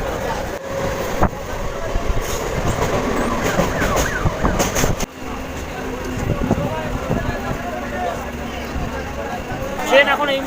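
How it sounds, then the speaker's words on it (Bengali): A Kolkata local train on the Sealdah–Canning line pulls into Dhakuria station with a steady, loud rumble of carriages and a brief high squeal near the end, while voices talk in the carriage. "ট্রেন এখন এই মুহূর্তে এসে পৌঁছালো ঢাকুরিয়া"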